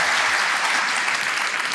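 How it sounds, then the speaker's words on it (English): A brief, dense burst of audience applause at a soft power conference, with continuous clapping from a large crowd. "please give these guys a big hand for making today a success"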